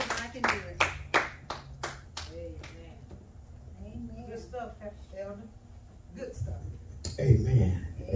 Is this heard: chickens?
no